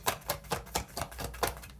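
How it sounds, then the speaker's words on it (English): Rapid riffling taps of a tarot deck being shuffled, several quick bursts in an uneven rhythm, close up with no talking. "Let's see if we can just shuffle it outright."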